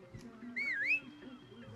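Brief two-note whistled phrase in a Far Cry 6 cutscene, a rising tone that dips and rises again, moderately loud over low background music and ambience.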